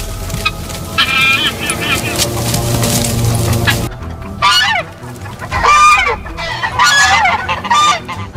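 Loud, harsh goose honks come in several bursts as the goose fights a dog, with a noisy scuffle before them and other animal sounds nearby.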